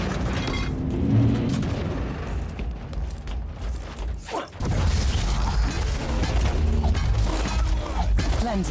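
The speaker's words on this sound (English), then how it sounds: "Cleansing shots fired." Cleansing gunfire in the video game Warhammer 40K: Inquisitor - Martyr, with heavy booming shots and mechanical clatter rolling on continuously. There is a brief lull midway before the barrage resumes loudly.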